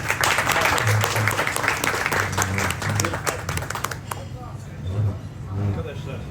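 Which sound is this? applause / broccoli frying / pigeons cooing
applause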